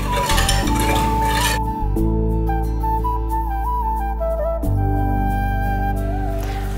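Milk for Ambalapuzha pal payasam being stirred in a pot, with close metallic clinks and scraping of a spoon against the vessel over a steady cooking hum, no voices.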